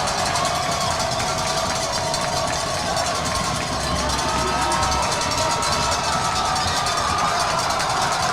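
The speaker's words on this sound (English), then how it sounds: "This is a big crowd here." Large crowd noise at a high school football game between Blue Valley Northwest and Lee's Summit North, a dense, steady roar of many voices filling the stands throughout, with no distinct cheer bursts.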